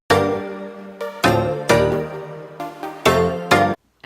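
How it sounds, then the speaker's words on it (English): Piano notes from the opening of a song, a series of bright struck chords ringing and decaying in a rhythmic pattern, clear and alone. "now it kind of sounds like a piano ding at the beginning"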